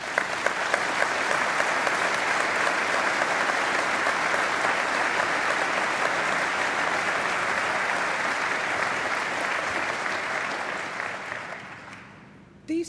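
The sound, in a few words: graduation ceremony audience applause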